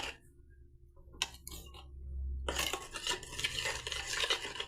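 A spoon stirs a thin watery cleaning paste in a small bowl, quiet clicks at first and then a continuous scraping swirl that grows busier and louder, close up.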